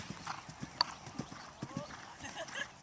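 A horse being ridden in a canter in an arena, its hooves clip-clopping in a steady rhythm of soft, fairly close beats, with a trainer's voice talking over the hoofbeats.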